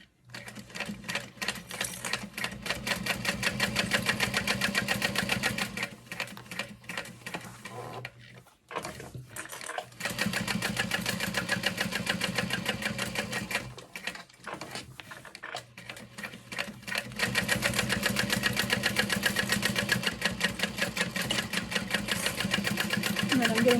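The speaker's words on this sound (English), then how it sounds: "Starting at the top, I'm going to back stitch just a little bit" A sewing machine stitching fabric for a convention bag, first back stitching briefly and then sewing straight across. The steady, dense motor whir runs loud and close in long bursts with short pauses between runs.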